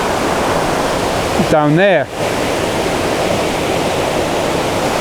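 Waterfall and high river water rush steadily as a loud, constant wash over rocks, with a brief spoken phrase near the middle.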